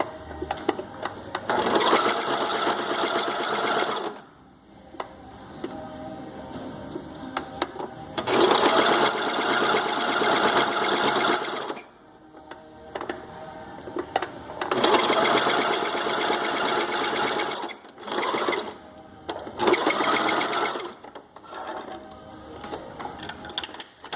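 A home sewing machine stitches a padded bikini in repeated loud, steady runs of several seconds each, broken by short pauses, close up with no talk over it.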